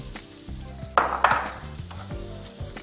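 Capsicum sautés in a pan with a steady close sizzle, broken by two louder hissing bursts as the pieces are stirred, and a low tonal hum runs beneath without any talking.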